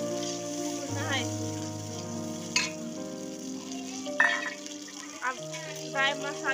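A tomato and onion paste with ginger and garlic sizzles and fries in a pan, with steady sizzling, occasional stirring scrapes and clinks, and a voice talking over the cooking.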